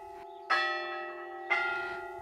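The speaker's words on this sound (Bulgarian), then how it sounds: "Камбанен звън ще ви посрещне в съседното село Павелско." A church bell rings from the 17-metre bell tower of the Holy Ascension church, built in 1834 in the Bulgarian village of Pavelsko. Two clear strikes about a second apart each leave a long, humming resonance.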